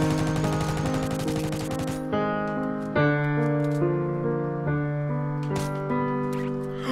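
Gunfire in the video game Fortnite: a rapid automatic burst for about two seconds, then several loud single shots spaced roughly a second apart, each followed by a ringing tail.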